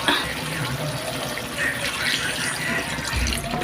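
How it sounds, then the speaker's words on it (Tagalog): Coconut milk pours into a pot of beef curry with pineapple tidbits, making a steady, close liquid splashing and gurgling that lasts a few seconds. "Tapos lagay ko na rin ang ating kakang gata."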